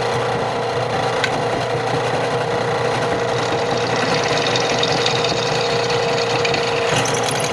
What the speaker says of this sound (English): Clean all those up around the edges. Gotta sand all the way around.